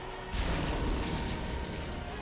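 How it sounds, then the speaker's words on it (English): Explosions in the video game Bloodborne burst in suddenly with a loud, deep boom that rumbles on as a sustained, heavy roar of blast and debris, with no talking over it. "Explosions!"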